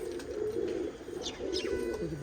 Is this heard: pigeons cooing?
yes